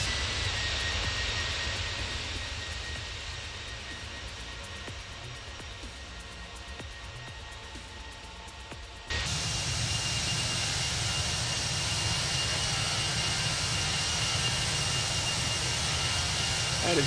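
ToLiss A319 airliner passing in an X-Plane 11 flyby, a steady jet engine whine and rumble that jumps abruptly louder halfway through and holds at that level.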